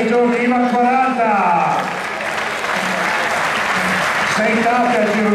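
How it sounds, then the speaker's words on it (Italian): A crowd at an Italian cycling track meeting in Fiorenzuola applauds a former rider, a dense wash of clapping swelling under a public-address announcer's voice. "vi chiediamo di fare un applauso ad un altro dei corridori"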